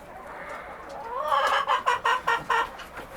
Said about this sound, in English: I have 2 or 3 dark colored Easter egger hens.